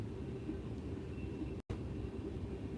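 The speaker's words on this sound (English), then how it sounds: "But it had 4 engines on this train." A long freight train hauled by four locomotives rumbles steadily past, a broad continuous roar heard from a vehicle at a distance, with a very brief dropout partway through.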